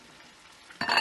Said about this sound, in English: I'm going to give it a nice good stir here